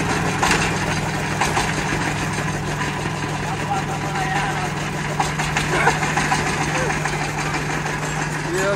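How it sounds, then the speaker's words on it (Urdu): A farm tractor engine running at a steady idle, a loud continuous low rumble with light knocking ticks throughout, close by outdoors with no clear start. "یہ بھائی اب ٹریکٹر جو ہے اسٹارٹ کرے گا"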